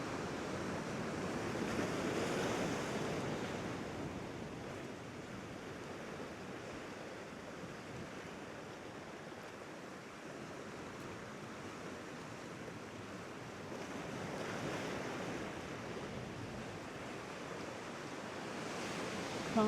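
Sea waves crash over rocks along the Isle of Wight coast, a continuous broad roar that swells and recedes in slow surges, with wind buffeting nearby and no voices.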